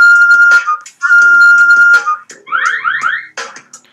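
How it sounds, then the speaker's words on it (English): A whistle blown in a Simpsons video game: two long, loud, steady whistle blasts, then a short run of rising chirpy tones. "let's just blow the whistle from in here to wake him up."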